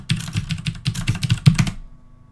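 Typing a name on a computer keyboard, heard as a close, fast run of about a dozen crisp key clicks over two seconds before it falls quiet.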